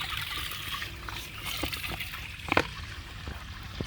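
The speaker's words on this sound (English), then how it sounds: "Just need to drain the tank" Dirty carpet-cleaning water drains from a tank outdoors, a faint, steady trickle with a few soft splashes and one brief louder splatter.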